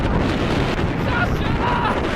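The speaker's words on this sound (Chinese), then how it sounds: "风突然太大了" Fierce wind in a minus-13-degree snowstorm batters the microphone, a loud, unbroken roaring blast close by.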